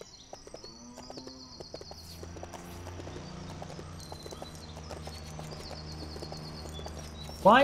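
Horse hooves clip-clop in a steady rhythm in the LEGO City Undercover video game, moderately near over a low music and ambience bed, with a sharp louder burst right at the end.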